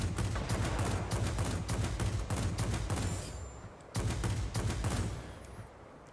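Rapid sustained gunfire fills the air in Tironan's Unfriendly Skies, a dense loud fusillade that thins for a moment before a second burst resumes and trails off.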